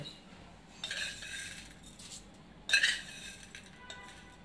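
A spoon scrapes and clinks against a pot while corn upma is stirred and mixed, two distinct bursts of metallic clatter between quieter pauses, close and fairly soft with no talking.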